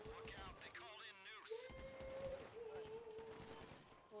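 Gunfire in GTA V during a prison-escape mission, a few sharp shots and bursts popping under steady talk from players over voice chat, with game music and effects in the mix.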